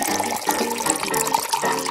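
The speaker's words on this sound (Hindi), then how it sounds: "पानी डालो" Water poured into a glass while mixing a drink, a steady splashing, gurgling stream that runs for the whole moment, close and fairly loud.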